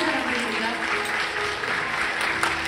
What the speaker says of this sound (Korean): 여러분의 따뜻한 마음을 담아서 다시 한번 박수 부탁드립니다.